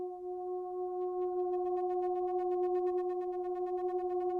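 Heated metal pipes sing with a steady, strong tone that wavers and pulses as it goes on, layered with fainter overtones and no voices.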